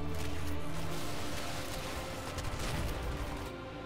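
Crysis 2 multiplayer gunfire, dense continuous rapid shots in a loud wash of noise that eases slightly near the end.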